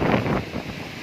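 Strong typhoon wind roaring through trees, a dense close rush buffeting the microphone for about a second, with no voices.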